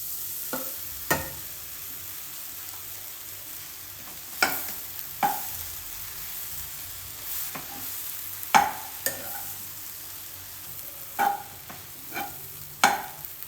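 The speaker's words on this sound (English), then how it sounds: "Fry the bread until it changes into golden color." Bread frying in a pan with magic masala, a quiet low sizzle broken by sharp clinks and scrapes of a utensil stirring at irregular intervals, no speech.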